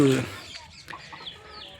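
Native country chickens clucking on a free-range village farm, a loud burst of calls at the start fading into softer scattered clucks and chirps.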